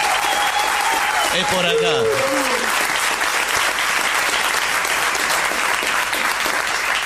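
A comedy show audience breaks into loud, sustained applause and cheers to greet a comedian, a dense wall of clapping throughout, with a person briefly talking over it near the start.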